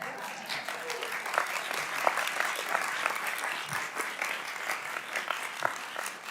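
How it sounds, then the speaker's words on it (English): Applause at a Democratic shadow hearing on Trump's corruption, a dense, continuous crowd clapping with sharp individual claps standing out, sustained for several seconds with no talking. "I'm not really accustomed to the applause, but I love it."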